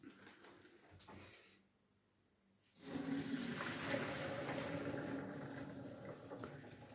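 Cooked pasta is drained, water pouring and splashing continuously into a sink at close range after a brief quiet pause, with faint background noise before the pour.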